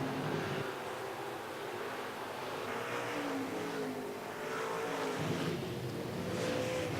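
IMCA stock cars race on the RPM Speedway oval during Fall Nationals qualifiers, heard from a distance as a continuous faint engine roar that swells and fades as cars pass.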